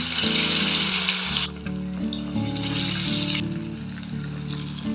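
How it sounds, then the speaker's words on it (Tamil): Chicken 65 deep-fries in hot oil in a kadai, giving a dense, close crackling sizzle that stays loud and steady, with faint tonal sounds in the background. "பொரிச்சு எடுத்துடலாம் 65"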